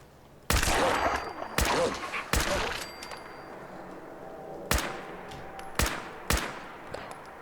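Loud, sharp gunshots crack out in a Fallout 4 fight with dogs, in bursts of three and then three more with short gaps between them, each with a ringing tail.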